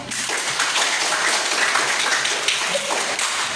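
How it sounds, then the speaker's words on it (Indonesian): A classroom of students applauding a group of classmates who have just presented, steady dense clapping filling the room throughout, fairly loud and continuous with no talk over it. "Berikan tepuk tangan pada kelompok 1."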